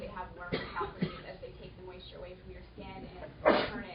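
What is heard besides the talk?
sneeze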